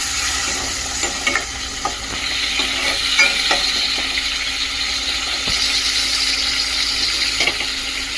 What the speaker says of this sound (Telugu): ఎండు రొయ్యలు అనమాట ఆయిల్లో బాగా వేయించుకోవాలి